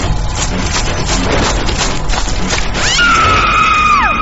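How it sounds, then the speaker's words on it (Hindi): A loud, shrill scream rises and then trails off over a wash of chaotic noise, close and intense, with no clear speech. "हमें अचानक किसी के चीखने की आवाज सुनाई दी।"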